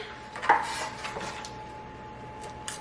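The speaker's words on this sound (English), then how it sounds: "now I'm just gonna chop this up" A few sharp knife chops through a block of chocolate on a cutting board for vegan banana bread, clustered near the start and then thinning out to faint taps, close and fairly quiet.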